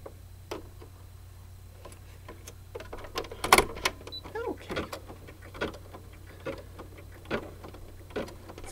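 An embroidery machine stitching a light zigzag underlay for an in-the-hoop appliqué Easter egg coaster in peach thread, heard as a steady low motor hum with a run of quick, irregular ticking needle strikes, close and moderately loud.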